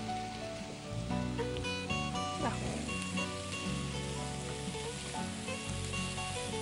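Potatoes frying in a pan and being stirred, with a constant close sizzle and occasional scraping of the utensil, set against a continuous background hum.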